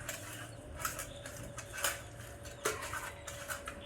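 Utensil scraping and clinking against a dish while masala is mixed with water for a fish marinade in a home kitchen: faint, close, irregular metallic taps over a low steady hum.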